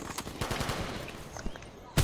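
Gunfire from a video game match, with a dense run of rapid shots through most of the stretch and a sharp, loud report right at the end, heard alone without talk.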